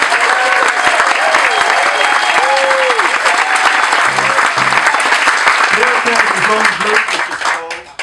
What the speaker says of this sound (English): let's have another big round of applause for Mr. Jeff